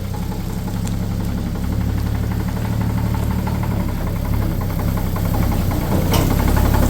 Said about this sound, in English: Today we're going to try to get this terrible old engine running so I can put it in a terrible old truck.